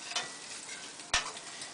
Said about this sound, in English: So once it sizzles a little while in the olive oil